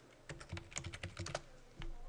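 Rapid keystrokes on a computer keyboard, a quick burst of about a dozen light clicks in close succession, near and fairly quiet, then a brief pause.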